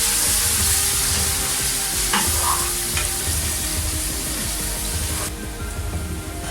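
Semolina roasting in oil for halwa, with a spoon stirring through it in a pan: a steady close sizzle with scraping strokes and small clinks, no talking.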